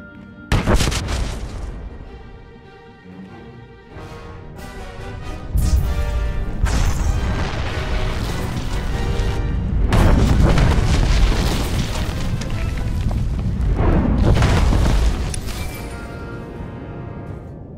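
A bomb detonates in Star Wars: The Old Republic, opening with a sharp blast followed by rolling booms and crashing rumble that swell and sustain for many seconds, loud and heavy.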